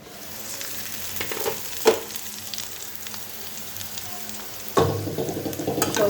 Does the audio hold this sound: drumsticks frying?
yes